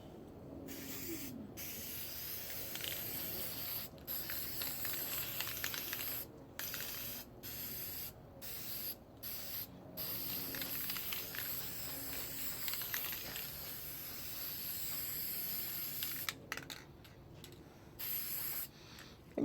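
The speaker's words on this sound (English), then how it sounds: "And I'm going to do a light mist." Spray paint hisses in short light-mist bursts onto a stop sign taped with yellow tape, made into a shield; several quick sprays separated by brief pauses, close and fairly quiet.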